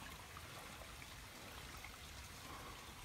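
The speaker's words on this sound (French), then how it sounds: "par là-bas, tu vois, il y a un petit ruisseau" A small stream trickles steadily on an outdoor walk, a soft, continuous watery hiss with faint drips, even in level throughout and with no voices.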